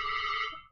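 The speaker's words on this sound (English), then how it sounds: "Sorry, I think that's a phone ringing." A single short ring from a telephone sounds during a podcast recording, a bright, steady electronic tone lasting under a second before cutting off, with no talk over it.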